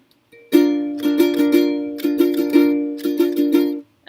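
Plucked ukulele playing the end riff of the Beatles' Norwegian Wood, bright close-miked notes in three rhythmic phrases over a sustained ringing string, with no talk.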